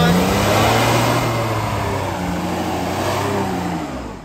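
A Dodge Nitro engine revs hard during a burnout attempt, a loud sustained close roar with shifting pitch that fades toward the end, with faint voices underneath.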